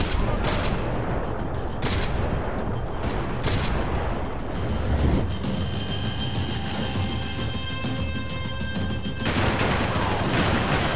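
Dense, continuous gunfire from the Max Payne 3 video game, a loud fusillade of rapid shots and booms with a harsh ringing tone in the middle stretch, no talking.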